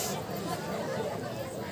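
In King Janak's royal court a dense murmur of crowd chatter fills the hall as an indistinct, steady babble of many voices throughout.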